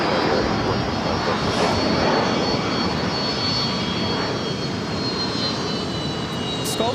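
Airbus A380 jet rolling down the runway at LAX, a loud steady roar of engines filling the air with broadband rumble and a faint high whine throughout.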